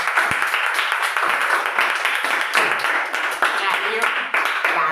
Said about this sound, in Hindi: ऐसे डब्बों के लिए जोरदार तालियां हो जाए।